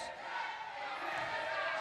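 A crowd of Brazilian and Canadian women cheers at a wheelchair basketball game, a continuous, moderately loud roar of voices with no single distinct shout.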